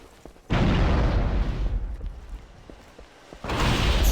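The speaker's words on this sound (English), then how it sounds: "Grenade for you." Grenade blasts in the Rimworld video game: a loud, booming game explosion with a rumbling decay, then a second blast near the end, no talking.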